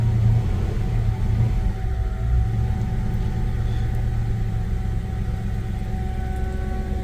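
A 1966 Chevy C10 truck with a 350 engine, sitting unused for a while and in first gear, runs with a steady low idling rumble for the whole stretch; no distinct squeaks or rattles stand out.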